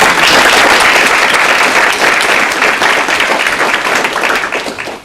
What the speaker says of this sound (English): So please, a huge round of applause for Amy for giving her evening.